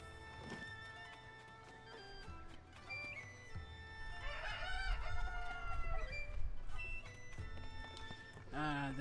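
Chickens clucking and a rooster crowing in the video game Zelda: Tears of the Kingdom, mixed with hoof clip-clop and game music, with someone talking over parts of it.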